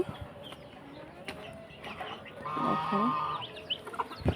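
Desi chickens cluck and murmur close by as rice is scattered for them, with short calls over soft background rustling and a brief flutter near the end.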